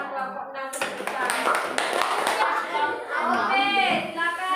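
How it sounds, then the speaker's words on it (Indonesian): Classroom of students applauding a group, a burst of clapping that starts abruptly and runs on, mixed with children's chatter and a teacher's voice over it. "Beri tepuk tangan kelompok 6 sebesar."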